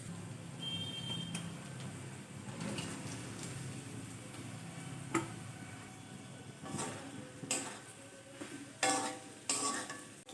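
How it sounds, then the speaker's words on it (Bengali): Soya chunks being stirred into fried spice paste in a pan for a Bengali soya curry, with soft scraping and a quiet sizzle, then sharper clinks and knocks of the spoon against the pot toward the end. "এবার আমি এতে সয়াবিনটা অ্যাড করে দিচ্ছি।"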